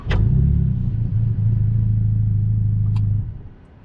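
A Ferrari Roma's engine fires with a sharp burst, settles into a steady low idle for about three seconds, then shuts off automatically, with no talking.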